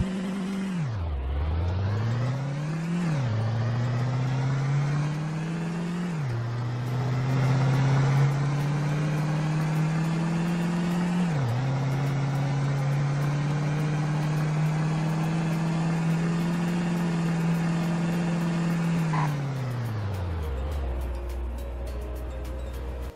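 In the Roblox game Greenville, a 2500 HD truck engine accelerates up through several gear shifts, each rise cut by a dip, then holds a steady high drone before winding down as it brakes to a stop; loud and continuous, no talking.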